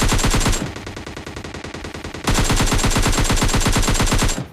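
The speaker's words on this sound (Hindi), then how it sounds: "घर है वहां से वाले गनशॉट की आवाज आ रही है।" Automatic gunfire in the mobile shooter PUBG Mobile Lite rattles in rapid, evenly spaced bursts, loud and close, with a short lull of quieter distant shots before another long, sharp volley.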